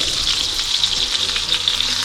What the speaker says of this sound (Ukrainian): І ось тут ще смажу котлетами.